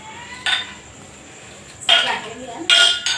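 A spoon scrapes and clinks against a bowl while a spice mix of chilli powder and coriander-cumin powder is stirred for bhajiya batter, three short metallic bursts separated by quiet pauses.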